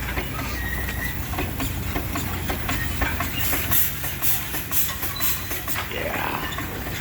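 An antique steam engine chugs steadily, with rhythmic puffing hisses and mechanical clicking over a constant low rumble.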